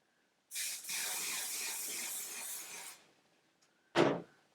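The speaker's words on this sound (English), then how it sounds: "Now I'm gonna go into my hairspray." Aerosol hairspray sprayed onto hair, a long steady hissing burst lasting about two and a half seconds, followed after a short pause by a second brief, louder spurt, close and alone.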